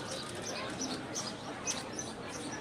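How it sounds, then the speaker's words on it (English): Hungry baby birds chirp from nests tucked up high at Magic Kingdom, giving faint, scattered high tweets over a busy, noisy background. "Now it sounds like the chicks are hungry."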